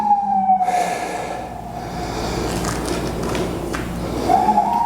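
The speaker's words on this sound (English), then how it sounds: "Sorry about the siren." An emergency vehicle siren wails in the distance, its rising and falling tone fading in and out over a steady low rumble of background noise.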